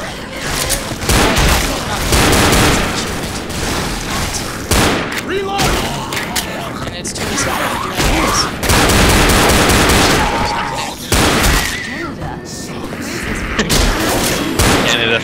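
Repeated gunfire from the Left 4 Dead video game, dense bursts of shots and booms rattling throughout, loud and close, with players talking over the shooting.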